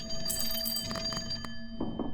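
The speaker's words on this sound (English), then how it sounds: "the phone rings so loudly the whole fucking screen shakes" A phone rings loudly inside the slot-machine horror game CloverPit, a steady bell-like tone held over a dense electronic background with a few sharper strikes near the end.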